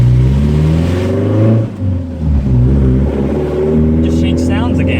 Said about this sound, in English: The muffler gave way.